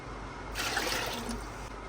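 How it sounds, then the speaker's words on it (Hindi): Water poured into a spiced lentil mixture for daal, a soft splashing pour close by that swells in the middle and trails off after about a second. "थोड़ा सा और पानी डालेंगे।"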